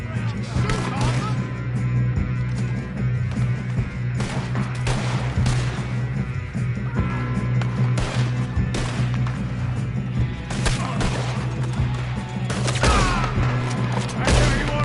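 Gunfire fills a Red Dead Redemption 2 shootout, with repeated shots cracking over a steady low rumble throughout and voices talking intermittently.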